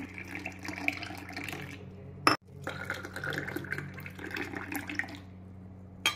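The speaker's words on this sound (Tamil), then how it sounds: "தேவையான அளவு பால் ஊற்றி எந்த அளவுக்கு உங்களுக்கு ஸ்ட்ராங் வேணும்" Milk poured into a cup of strong coffee, a continuous close liquid stream and fill sound with a brief cut midway, then pouring resumes steadily and stops at the end.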